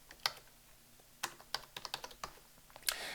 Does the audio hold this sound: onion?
no